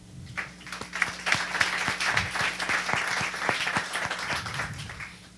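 A live audience at a wearables and wearable-audio beta test event claps for the Director of Technology at Big Saw, with distinct individual claps standing out over a moderate, fairly sparse round of applause that runs throughout.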